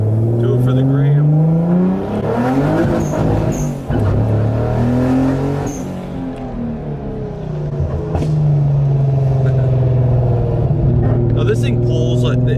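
A Nissan Fairlady Z fitted with an R35 GT-R exhaust pulls hard, its loud engine note climbing and falling through several rising sweeps across the clip, with voices heard over it.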